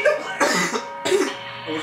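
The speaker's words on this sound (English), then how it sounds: "I wasn't laughing, it was just a cough." A person coughs loudly in two harsh bursts about half a second apart, close up with a short throaty sound after the first and a lighter rasp trailing the second, with no talk over it.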